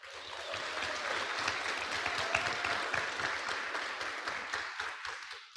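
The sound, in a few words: audience applause at a membership meeting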